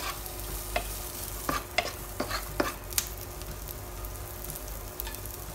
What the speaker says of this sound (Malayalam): ഇതിലേക്ക് നമുക്ക് സവാള ഇട്ടു കൊടുക്കാം അതിനു ശേഷം ഒന്ന് വാട്ടി കൊടുക്കാം